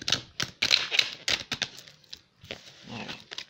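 Oracle message cards being shuffled by hand, a close run of quick, crisp flicking and rustling bursts with short breaks, and no voice.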